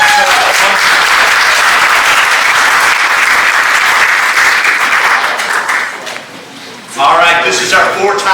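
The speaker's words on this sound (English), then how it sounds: "let's give a round of applause" A crowd at a charity pie auction bursts into loud, sustained applause that fades after several seconds, then a voice speaks as the clapping trails off.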